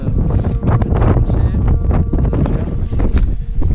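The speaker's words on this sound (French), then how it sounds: "Il fait froid, on est dans le vent." Strong, cold wind on a trek in Iceland buffets the microphone in a continuous, loud rumble, with a voice faintly mixed in beneath the gusts.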